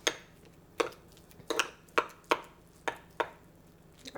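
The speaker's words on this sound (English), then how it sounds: "I'm just going to mash up a little bit with my spoon here." A spoon mashes avocado in a bowl with a series of soft, regular thuds, about one every half second, close and fairly quiet, with no voices.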